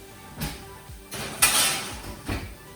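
A metal pan of seasoned, oiled vegetables clattering as it is slid onto an oven rack, with a few sharp knocks and a louder scrape and bang from the oven door and rack, close by.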